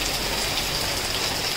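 Heavy rain pours down outside in a dense, steady hiss with no breaks, loud and continuous and with no voices over it.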